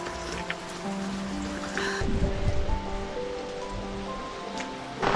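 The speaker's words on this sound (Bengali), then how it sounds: "অঝরে বৃষ্টি হচ্ছে যেমন দেখতে পাচ্ছেন" Heavy rain pouring steadily outside a veranda at a camp, a dense continuous wash of noise with a brief louder thud near the middle and no talking.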